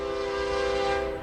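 A northbound BNSF stack train with a UP engine in the consist at Tehachapi sounds its horn, a loud sustained multi-tone blast held across the whole moment with rumbling rail noise beneath.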